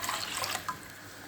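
Water from a tap runs into a pot for Kashmiri pink tea, a short splashing pour that fades after a moment and continues as a faint trickle, with no talking.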